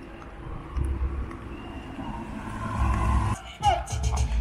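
Cars moving along a closed street during carnival in Le Marin, southern Martinique: a steady low engine rumble with a brief squeal near the end, under voices in the crowd.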